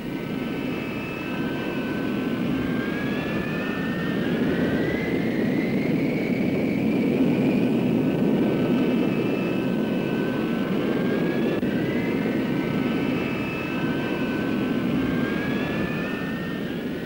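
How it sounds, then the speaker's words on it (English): A North American F-100 Super Sabre with an afterburning J-37 turbojet roars steadily, a broad sustained jet rumble with faint sweeping whine tones above it and no voices. "Powered by an afterburning J-37 turbojet, it could fly at supersonic speed on the level"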